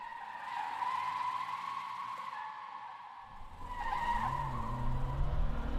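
Takumi's car runs the Mount Akina mountain road at night in the Initial D film, a steady engine drone with tires squealing and skidding through the bends, rising louder toward the end.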